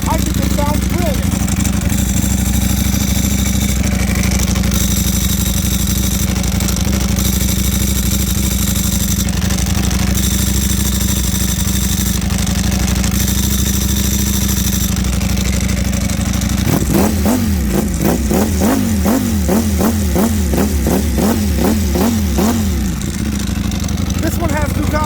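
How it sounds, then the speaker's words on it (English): Ducati Panigale superbike engine idling with the rattling clatter of its dry clutch, steady and close, then a run of sharp throttle blips revving up and dropping back near the end. "I love the sound of the dry clutch."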